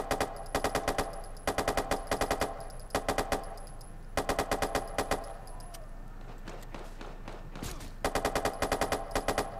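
Rapid automatic gunfire crackles in repeated short bursts during a Watch Dogs 2 firefight, sharp and fairly close, with brief quieter gaps between volleys.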